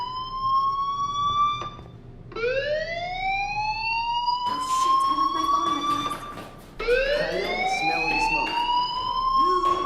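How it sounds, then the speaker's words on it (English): Fire alarm blaring in the video game Life Is Strange, a loud rising-and-falling electronic wail that repeats in several sweeps, swelling and cutting back between cycles, with other game sounds faint underneath. "Hey, do you hear that fire alarm?"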